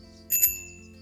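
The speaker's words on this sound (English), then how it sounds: "Ring that bell." A cyclist's bicycle bell rings out on a country road near Saxton, giving a bright double ding close by, then fading over a low steady background hum.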